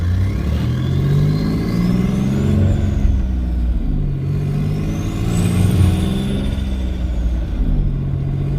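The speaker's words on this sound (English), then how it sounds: "this thing spools up quick with the one turbo" Twin turbo V6 Mustang running on a single turbo with a wastegate leak, revving hard under load in two rising and falling pulls, with a turbo whine sweeping up and down above the loud engine roar.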